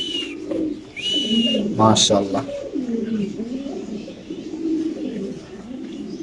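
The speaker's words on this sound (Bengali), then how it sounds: "আপনাদের আফসান গ্রিজেল স্প্যানিশ কবুতরের ডাকটাও ইনশাআল্লাহ দেখাচ্ছি আপনাদের" Afshan grizzle Spanish pigeons give soft, repeated low cooing calls at close range, mixed with a voice speaking over them.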